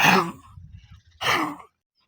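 A dog named Linda coughs twice after running, each cough a short rasping hack about a second apart, with a low snuffling rumble between them, close by.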